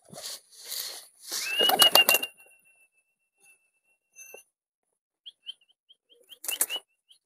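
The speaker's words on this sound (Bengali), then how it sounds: "ঘুঘুটার ডানার আওয়াজ শুনলাম আমি" A dove's wings flap in a short burst at close range, followed by a few faint chirps and a thin whistle-like tone against otherwise quiet surroundings.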